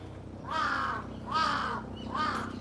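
A large crow calls from a park in Tokyo, three drawn-out, raspy caws spaced about a second apart, near and loud over quiet outdoor background.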